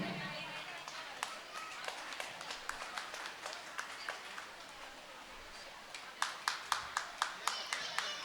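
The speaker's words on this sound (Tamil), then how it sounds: "கைத்தட்டுங்க" Audience applause at a prize announcement during a Tamil festival, scattered hand claps that swell into louder, sharper rhythmic clapping near the end, with a voice speaking through it.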